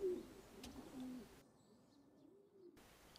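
Pigeons coo softly at a loft on a morning after rain, a few low, rounded calls heard fairly close, with quieter stretches between them and no speech.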